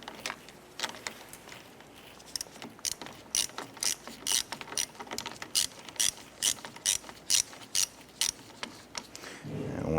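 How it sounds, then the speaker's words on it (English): A hand ratchet clicks in quick, evenly spaced strokes while tightening down a fastener on a 1993–1997 Ford Ranger during fuel injector replacement. The clicks are crisp and close, with a short pause before the run continues. "Let's go ahead and tighten down this side."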